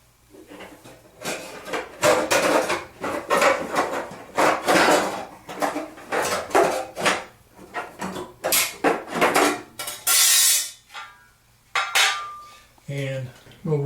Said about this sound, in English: So I'm going to reach in and take out that inner safety door right now.